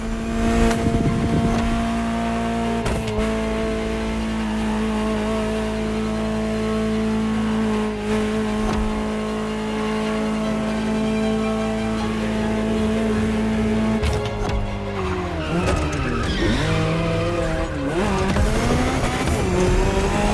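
Ferrari 308 GTO in The Crew Motorfest, engine droning steadily at high revs, loud and close, then pitch dips and wavers through shifts and braking near the end.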